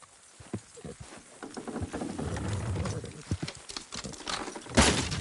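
Horses clip-clop in Red Dead Redemption 2, a steady run of hoof knocks close by across the clip with game dialogue and ambient sound mixed in.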